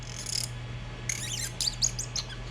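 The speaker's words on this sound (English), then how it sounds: "excuse the squeaky noise. I have not sanded the rotor stem yet." A 3D printed tuba rotor with an unsanded stem squeaks as it is turned, giving faint, high chirping squeaks in a few short, separate bursts.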